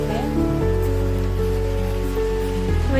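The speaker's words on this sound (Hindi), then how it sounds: "बारिश देखो कितनी भयानक वाली हो रही है, मतलब सुबह से हो रही है लगातार, अभी तक रुकी नहीं है।" Heavy rain pours down steadily in the mountains, a dense continuous hiss of drops on surfaces close by, with a low droning hum running underneath and no talking.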